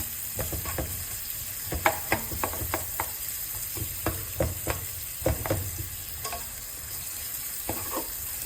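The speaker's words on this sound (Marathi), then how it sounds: "अशा पद्धतीने कांदा पूर्ण ब्राऊन झाला पाहिजे." Onion sautéing in a pan while being browned, a soft continuous sizzle broken by repeated scraping and stirring strokes at an irregular pace, fairly quiet and close, with no talking.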